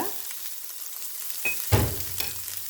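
Okra (ladies finger) sautéing in a pan, a faint, low sizzle with a few louder spatula scrapes and knocks near the middle, close by.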